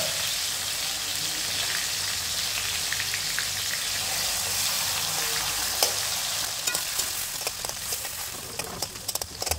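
Chopped tomatoes fry in hot oil in a pan, giving a continuous close sizzle that turns into scattered crackles and pops toward the end, with scraping from stirring.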